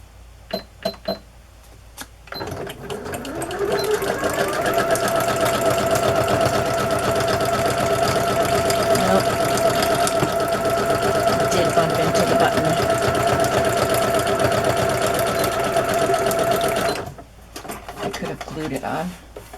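A sewing machine runs in a steady, continuous whir as it stitches a fabric pocket onto a stash-buster journal, with the buzz starting and stopping at either end and short clicks before it.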